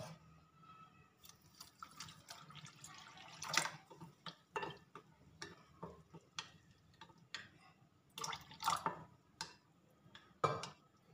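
Warm water poured and splashed onto 300 grams of semolina set to soak for tal fritters, heard as intermittent close drips, splashes and clinks with no talking.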